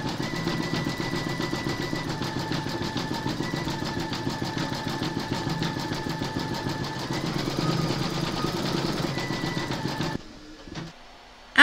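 An embroidery machine stitching a soldier silhouette on a remembrance quilt panel, a fast, even mechanical chatter running steadily for about ten seconds before stopping abruptly.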